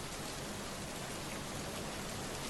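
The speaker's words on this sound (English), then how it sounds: "Suddenly, it began to rain very hard." Heavy rain pouring as a sound effect, a dense, steady broadband hiss that stays loud and unbroken throughout with no other sounds.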